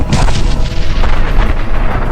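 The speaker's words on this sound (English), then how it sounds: "a waiter, innocently opening the bag, triggered the blast" A bomb blast at the German Bakery in Pune produces a very loud, deep boom that rolls on as a sustained low rumble for about two seconds, with no voices present.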